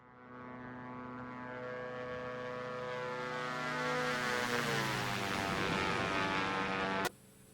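A simulated Diamond DA62 twin-prop aircraft climbs out at full power, a steady propeller drone whose tone climbs and sweeps as the engines build, then cuts off abruptly near the end.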